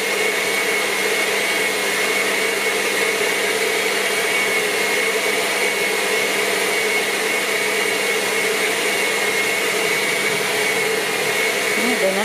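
Choux pastry dough is mixed until fully combined, accompanied by a loud, continuous motor whir that holds steady from start to finish with no pauses.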